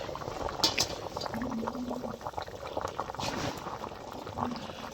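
A vegetable curry with coriander leaves and tomato simmers and bubbles on a clay stove, a steady close boiling with soft liquid sounds and a faint clink of a utensil.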